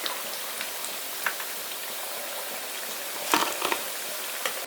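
Maggi noodle pakoras frying in hot oil, a steady soft sizzle with scattered crackles and pops, close and even throughout.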